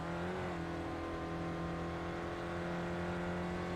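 A Spec Racer Ford held at full throttle at Lime Rock in iRacing, a loud, steady engine drone at high revs with a slight pitch rise early on, sustained without letup.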